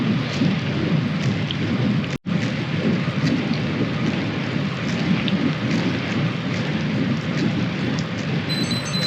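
Steady, dense rain noise surrounds a cyclist on an early-season road ride, with a constant broadband hiss that drops out for a moment near the start, and no voices.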